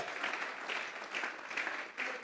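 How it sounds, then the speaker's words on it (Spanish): A church congregation claps together as an offering of praise to God, a steady, dense wash of applause with gentle swells, fairly distant and without voices on top. "vamos a regalarle ofrenda de palmas al Dios entonces, al Dios de la gloria"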